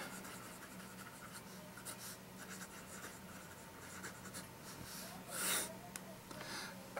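A vintage Waterman 54 fountain pen with a number 4 nib, inked with Waterman Intense Black, scratches faintly across paper in short strokes, heard close and alone against a quiet background.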